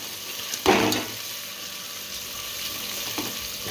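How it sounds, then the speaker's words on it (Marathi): Finely chopped onion sautéing in a pan for dal khichdi, a steady soft sizzle with a louder burst of frying as the onion hits the oil, then continuing quietly with faint stirring scrapes. "आता यामध्ये आपण बारीक चॉप केलेला कांदा घालून घेऊया आणि तो परतवून घ्यायचा आहे आपल्याला"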